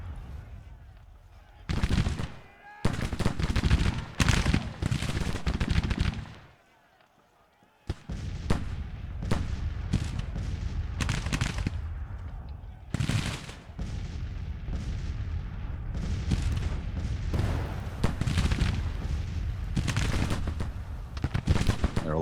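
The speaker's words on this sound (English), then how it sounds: "Our last few volleys go out" Musket volleys and gunfire crackle through a Grand Tactician: The Civil War battle, loud irregular bursts of rippling shots with a short lull before dense firing resumes.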